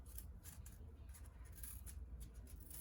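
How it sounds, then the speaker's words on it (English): Scissors snip little triangles out of material, a run of quick, close, faint cuts in uneven rhythm over a low background hum, with no talking. "I'm going to cut out little triangles out of this"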